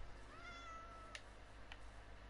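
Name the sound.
cat meowing in a video game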